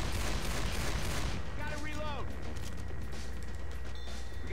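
Gunfire in Left 4 Dead 2 in the Dead Center hotel level: a loud, sustained wash of rapid shots and a constant low rumble throughout, with short whistling and ringing game effects near the middle and a player talking over it.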